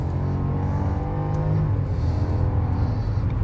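A car accelerating at full throttle gives a loud, close, continuous engine roar with a deep rumbling drone that stays strong throughout, with no voices over it.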